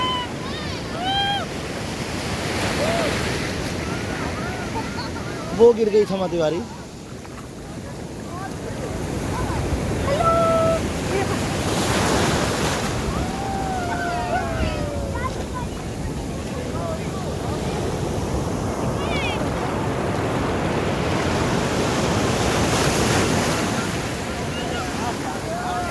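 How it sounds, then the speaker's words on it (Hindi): Heavy sea waves roll and crash onto the Goa shore with a constant roar of surf and wind buffeting the microphone, while someone talks over the noise and shouts briefly. "काफी अंदर आ गया हूँ मैं समुद्र के। और उससे भी तेज अभी दौड़ आ रही है"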